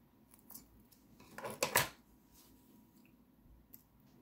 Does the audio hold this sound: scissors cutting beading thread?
yes